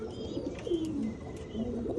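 Pigeons kept as pets coo softly nearby, with low rolling calls repeating over a faint background murmur.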